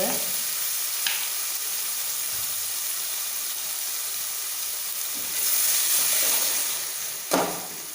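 Tomato paste and egg bhurji fry in a pan with a loud, steady sizzle and hiss, swelling midway, with a couple of sharp stirring scrapes.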